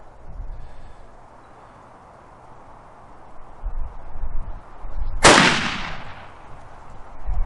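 A single sharp gunshot cracks out from a rifle braced on a Caldwell Lead Sled Solo shooting rest, loud and close, with a ringing decay after a few seconds of quiet outdoor background.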